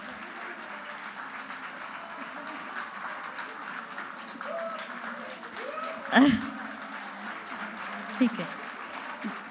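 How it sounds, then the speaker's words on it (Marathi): Audience applause at a school gathering for young student musicians, a steady wash of clapping throughout, with a short spoken remark and a couple of louder knocks near the end. "जोरदार टाळ्या वाजवून आपण ह्या वादकांचं कौतुक करूया."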